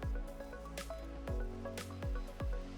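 NYX thickener powder dropping into a batch of diluted caustic water for liquid detergent, heard as a series of close, wet plops and drips spaced unevenly over a few seconds.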